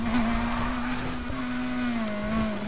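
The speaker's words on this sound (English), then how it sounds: "Hopefully you guys can't hear the music over the engine." Car engine from the racing game Need for Speed Heat, a steady loud drone with a strong sustained tone that shifts slightly in pitch, with game music faintly underneath.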